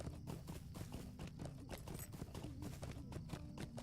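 Horse hooves clip-clopping at a walk in the Lord of the Rings Online video game, a steady rhythmic run of soft hoofbeats at low volume with no talk over them.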